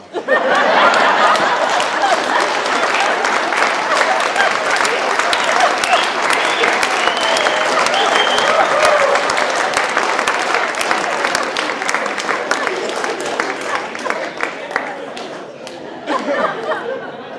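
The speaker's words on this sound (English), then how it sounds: "Give them one more round of applause." A crowd gives sustained, loud applause after a performance, with dense clapping mixed with cheering, chatter and some laughter, fading toward the end before a brief final burst.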